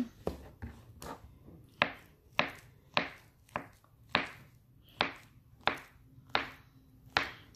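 A knife slices through turon wrapped in lumpia wrapper on a cutting board, about a dozen crisp, evenly spaced chops landing close and clear, each a sharp tap with a short decay.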